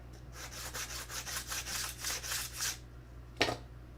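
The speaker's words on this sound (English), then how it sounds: "This is 180 grit sandpaper on a sanding block that I made myself." A 180 grit sandpaper on a homemade sanding block rubs back and forth in about a dozen quiet, even strokes, then stops, with one brief scrape near the end.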